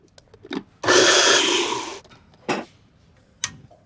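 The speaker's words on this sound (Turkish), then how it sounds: "Blenderla öğütün." A kitchen blender grinds cut strawberries in one loud burst of about a second, framed by nearby clicks and knocks, with no voices.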